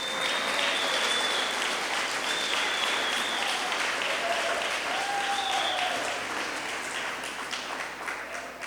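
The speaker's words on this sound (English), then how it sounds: "give yourselves a round of applause" Applause from the audience at the Bryant School historic marker unveiling in Teaneck, a thick sustained roar of many hands clapping, loud and even throughout before easing slightly toward the end, with faint voices and whistles mixed in.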